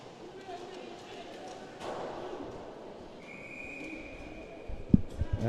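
A referee's whistle stops play at a high school hockey game: one long, steady, shrill tone above the rink's background din, followed by a few sharp thuds.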